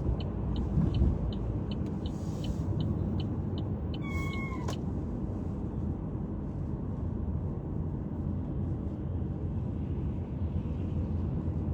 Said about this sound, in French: ma voiture fait un drôle de bruit